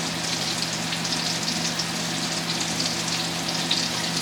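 Fresh scallops sear in a hot pan with a steady, dense sizzle that holds at an even level from start to finish, close up and with no voices.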